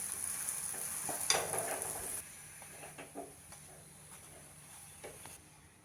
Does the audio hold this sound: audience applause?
no